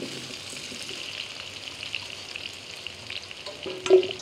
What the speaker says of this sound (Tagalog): kapag mainit na, prituin na natin yung patatas at carrots